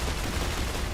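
Sustained gunfire in the sci-fi survival game StarRupture, a dense, loud burst of rapid shots filling the whole second with no gaps or voices.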